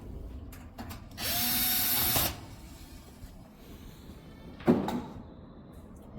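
Power drill backing screws out of the top of a unit, one whirring run of about a second followed later by a shorter burst, close, with faint handling clatter between.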